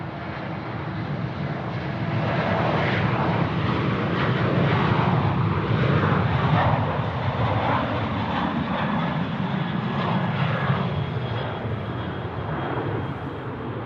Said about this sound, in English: Velocity 738 now, rolling runway 34 right.